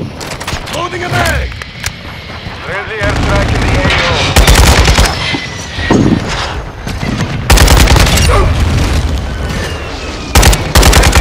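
Rapid automatic gunfire from a military shooter video game, with dense machine-gun bursts and heavy booms repeating loudly over roughly eleven seconds. Faint voices sit under the shooting.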